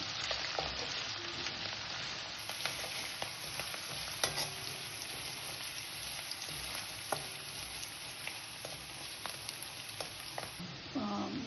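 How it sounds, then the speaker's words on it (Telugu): Cabbage frying in a pan for a cabbage mustard curry, a steady crackling sizzle with occasional stirring scrapes, fairly faint and without talk. "ఇలా ఎర్రగా వేయించుకుంటాం"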